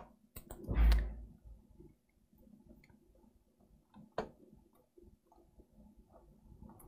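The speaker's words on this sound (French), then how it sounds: "Je clique pas au bon endroit." A computer mouse gives a few sharp, close clicks: a louder cluster near the start, another distinct click later, then faint scattered ticks over a quiet room with no speech.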